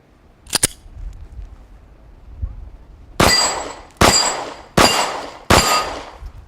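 Glock 26 pistol fired with a flat magazine at a B-27 target: one quick early crack, then after a pause four loud, sharp shots spaced evenly less than a second apart, each ringing out briefly.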